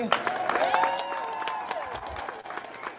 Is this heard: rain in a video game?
no